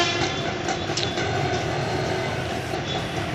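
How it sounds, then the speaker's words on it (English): A train at Madurai railway station gives off a steady, dense rumble of rolling wagons with faint clatter, continuous and fairly loud throughout with no talk. "This is the Madurai railway station"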